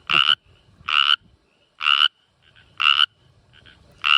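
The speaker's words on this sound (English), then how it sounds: "these guys are definitely some of the louder croakers here" An American bullfrog croaks loudly and close by, repeating in evenly spaced bursts about once a second with quiet gaps between.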